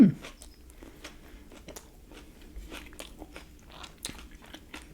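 A bite into a Hawaiian chicken sandwich with red cabbage and pineapple crunches, followed by steady chewing and soft crunching close to the mouth over several seconds, with no talking.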